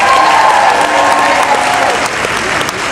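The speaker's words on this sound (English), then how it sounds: "So give yourselves a round of applause." A studio audience at a soap talk show at Disney's Hollywood Studios claps loudly and continuously, a dense wash of applause that eases slightly toward the end.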